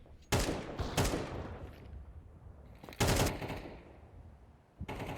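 Pistol gunfire in a Counter-Strike match on the Nuke map at IEM Chengdu 2024: four sharp, loud shots spaced irregularly, each with a brief ringing tail over a low ambient rumble.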